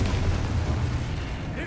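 Booming spell blast in the Hogwarts Legacy video game, a dense low rumbling burst sustained across the moment with a voice faintly beneath it.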